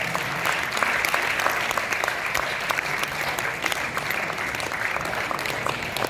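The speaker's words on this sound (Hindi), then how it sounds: "जोरदार तालियां सभी" Steady, dense applause from an audience at a theatre event, many hands clapping continuously and fairly loudly throughout with no pauses.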